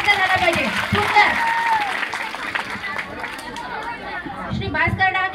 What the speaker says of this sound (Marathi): टाळ्यांचा पण पाऊस परत एकदा झाला पाहिजे.